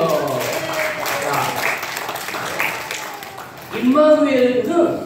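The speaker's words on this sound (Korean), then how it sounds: "박수 한번 쳐주세요" Congregation applause during a Christmas service at a Korean Baptist church in Baton Rouge, moderate clapping mixed with talk and crowd voices, with a louder voice rising near the end.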